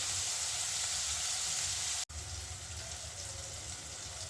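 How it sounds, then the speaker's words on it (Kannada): Tomato sizzling in a hot pan while cooking paneer sukka, a steady bright hiss and crackle throughout with one brief dropout midway, close and alone. "ಒಂದು ಟೊಮೊಟೊ ಹಣ್ಣು ಹಚ್ಕೊಂಡಿರೋ ಅಂಥದ್ದು ಅದನ್ನು ಕೂಡ ಇವಾಗ ಹಾಕೋತಾ ಇದ್ದೀನಿ"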